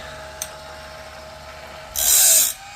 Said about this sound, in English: So he's got this fancy little automatic blade sharpener here.